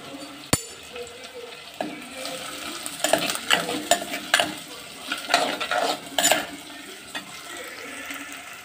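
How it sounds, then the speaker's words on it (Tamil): Onions sautéing for fish curry, a soft sizzle broken by quick clusters of spoon scrapes and clinks against the pan, close by, with a busier burst of stirring midway and no speech. "வெங்காயம் நல்லா வதங்கட்டும்."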